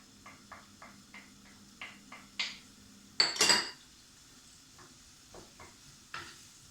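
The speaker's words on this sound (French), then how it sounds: "Donc on laisse bien mijoter les oignons." Onions and garlic cook in a pan for an Indian dish, giving a soft low sizzle under a series of light clinks and scrapes from stirring, with one louder clatter of utensil against pan midway.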